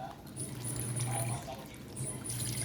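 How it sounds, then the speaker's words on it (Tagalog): Water runs and pours into a cooking pot while a simple provincial fish dish, pinangat na isda, is being prepared, a steady close splashing stream with brief pauses. "so ilagyan natin ng tubig lagyan natin ng tubig"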